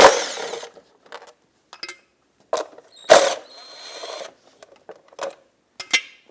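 Metal ratchet clicks and short tool sounds come in scattered bursts, close and fairly loud, as two 10mm bolts are loosened from the engine cover of a 2000-2006 Honda CR-V.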